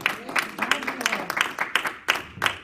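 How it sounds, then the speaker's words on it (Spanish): A church congregation at a Spanish-language service breaks into scattered applause, quick irregular claps close by with voices mixed in among them. "¿Cuánto le dan aplauso al Señor?"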